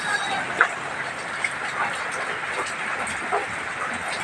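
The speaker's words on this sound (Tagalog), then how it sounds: "Ulan na bagyo." Heavy storm rain falling as a steady, dense hiss with a few sharper drip taps scattered through, continuous and fairly close, with no talking.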